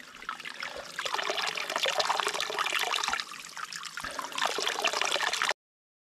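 Water pours steadily from a fountain along a mountain trail near Sestriere in July, a close, continuous splashing trickle that dips briefly and then carries on until it cuts off.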